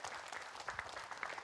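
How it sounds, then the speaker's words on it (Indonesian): A studio audience claps in a short, moderately loud burst of brisk, even applause on a television talk show set. "Boleh kita berikan tepuk tangan ya."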